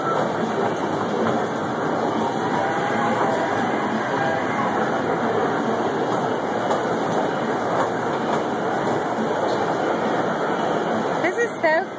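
Small train rumbling and clattering along steadily with a humming engine, continuous and fairly close, with voices talking over it.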